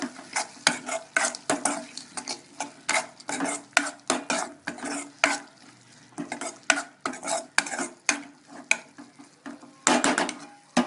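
A spoon stirs beetroot jam with cashews and raisins in a pan, giving repeated scraping clacks in an uneven rhythm with a faint sizzle underneath, close and fairly loud.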